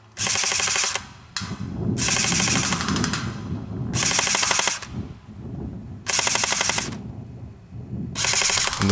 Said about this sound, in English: I'm holding down the trigger, you can hear the 2 second delay, and then it kicks into full auto.